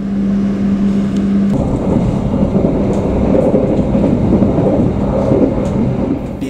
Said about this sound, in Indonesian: kereta api Argo Wilis melintas langsung dan melaju sangat kencang